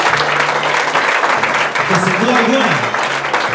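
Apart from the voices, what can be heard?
applause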